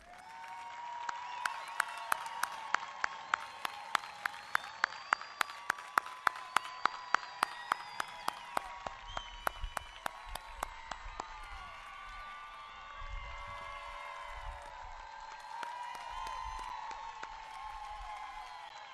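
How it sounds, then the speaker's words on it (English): Families and friends applauding graduates at a high school graduation ceremony, a crowd clapping steadily in a rhythmic beat before easing into a softer hall murmur. "I would like to invite your families and friends here today to please rise and salute you with a round of applause"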